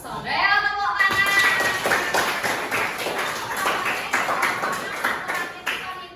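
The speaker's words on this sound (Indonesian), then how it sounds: "merakit power sound. Tepuk tangan." A group claps in a lively, continuous burst of overlapping hand claps, fairly close and loud, with some voices mingled in.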